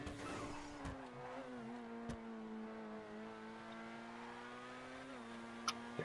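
A race car engine in a GTA Online stunt race holds high, steady revs with a smooth continuous drone and slight pitch wobbles, plus a couple of sharp clicks, heard alone and fairly faint.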